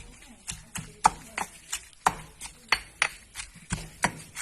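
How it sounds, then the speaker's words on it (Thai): A pestle pounds eggplant salad ingredients in a mortar in a brisk, uneven rhythm, about a dozen sharp thuds close by with no voices. "ตำพอให้ละเอียดนะครับ"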